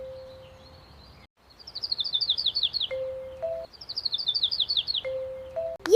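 Cartoon bird chirps from a children's picnic learning game: two quick runs of bright, rising tweets, each followed by a soft game tone, clean and alone.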